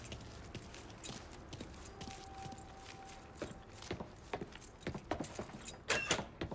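In Mafia 3, keys jangle in light metallic bursts, with soft clicks and footstep-like taps under a faint, low background hum.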